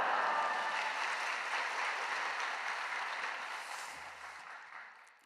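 A church congregation at an early-morning service applauds to welcome the pastor, a broad, full wash of many clapping hands that starts loud and slowly fades toward the end.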